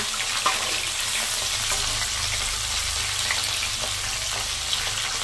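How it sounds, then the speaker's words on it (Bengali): Prawns fry in hot oil for a prawn malai curry, giving a steady, close, dense sizzle that runs continuously with faint crackles and no voices. "হালকা লাল লাল করে ভাজবো, তাহলে বেশি ভাজলে শক্ত হয়ে যাবে"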